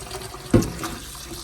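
Water running and splashing as homemade butter is rinsed in a bowl, a steady wash with one brief louder splash in the middle.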